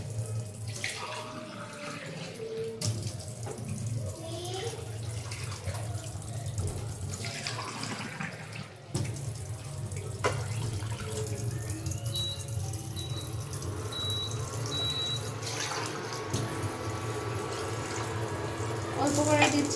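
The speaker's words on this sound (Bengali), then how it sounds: "এখন দিয়ে দেব পানি" Water runs steadily into a cooking pot of village-style mashed greens with small dried shrimp, a faint continuous trickle and splash lasting about twenty seconds, with a clatter midway and a low background hum.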